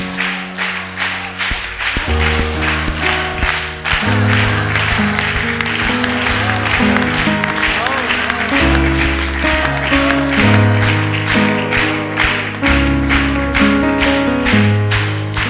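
Rhythmic congregational clapping in a church during a lively worship song, steady beats layered over loud music.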